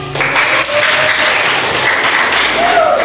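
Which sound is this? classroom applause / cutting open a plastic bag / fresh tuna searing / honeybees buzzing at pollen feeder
classroom applause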